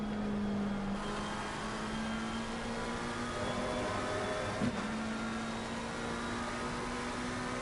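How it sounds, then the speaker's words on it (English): A McLaren race car engine in a PS4 racing game at the Barcelona circuit drones at a steady, sustained pitch. The even mechanical hum runs on alone, with one faint bump midway. "I just love the sound of that McLaren."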